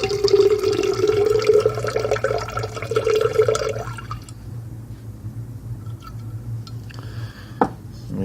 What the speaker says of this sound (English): Now we're going to pour it into our big glass.